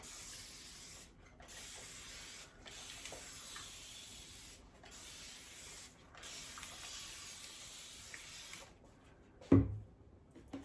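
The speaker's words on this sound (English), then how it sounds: "I'm going to spritz it again, just to keep everything down." Spray bottle spritzing water over a faux quartz craft surface, several soft hissing bursts separated by brief pauses, fairly quiet and close, ending with a louder knock or handling thud.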